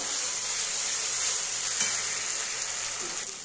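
Green chili paste and Kashmiri chili powder sizzle in hot oil in a pan, giving a steady, close frying hiss that holds even throughout with a faint stir near the end.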